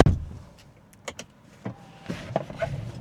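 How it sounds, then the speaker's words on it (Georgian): The electric steering column of a Mercedes-Benz E550 W212 lowers with a faint motor whir and a few soft mechanical clicks in a quiet cabin. No one speaks. "აი ეს მეყვარს საჭირო ჩამოდის დაბლა"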